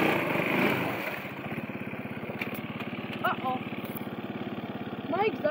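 A Moto 4 quad ATV engine running steadily while stuck in reverse, a close, continuous buzzing drone with slight rises in revs, with voices talking over it.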